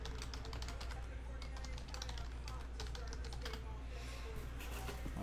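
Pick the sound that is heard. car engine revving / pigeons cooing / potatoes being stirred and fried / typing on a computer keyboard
typing on a computer keyboard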